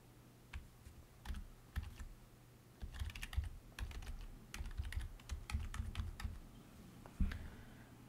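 Keys tapped on a computer keyboard while a Wi-Fi network password is typed in on Windows 11, giving bursts of quick, close clicks with short pauses between them and no talking.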